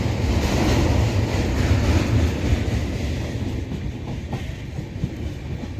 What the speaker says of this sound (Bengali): ট্রেন নির্ধারিত সময়ের থেকে 12 মিনিট লেটে চলছে